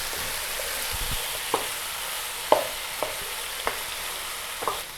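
Diced potatoes and eggplant sauté in a pan over medium flame, a soft steady sizzle broken by several light clinks and scrapes of a spatula, quiet and close, with no voices.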